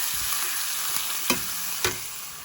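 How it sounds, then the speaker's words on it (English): Mince sizzles steadily with bacon and onions in a pan, a constant close frying hiss broken by two sharp stirring knocks. "cook that down along with our bacon and our onions"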